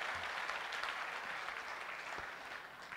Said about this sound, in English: give a big round of applause to all the